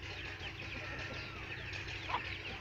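Free-ranging desi hens and a rooster cluck softly while roaming a crop field. Scattered low clucks and calls sit over a quiet outdoor background, with one slightly louder call near the end.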